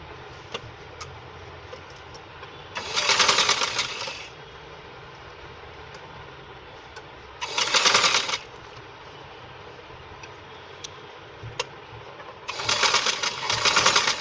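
Sewing machine stitching a sleeve onto a kurti panel with a half-inch seam margin, heard in three separate bursts of about a second each, fairly close and clear, with quiet pauses between runs.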